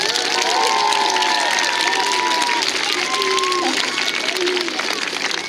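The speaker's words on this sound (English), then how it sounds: "One more round of applause." School assembly audience applauding loudly and continuously, a dense wash of clapping mixed with cheers and children's excited shouts and voices.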